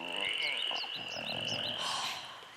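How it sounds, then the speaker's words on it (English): Animated badger frog from Avatar: The Last Airbender croaking in a rapid run of repeated calls over a sustained high whine and background ambience, with a voice briefly audible. "every time you hear a badger frog croak"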